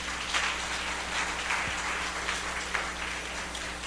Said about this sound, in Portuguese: Então vamos aplaudir o Senhor.